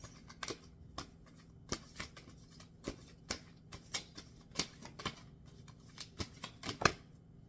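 Tarot cards shuffled and drawn at close range, a quiet run of irregular crisp flicks and riffles with short gaps between them, no voices.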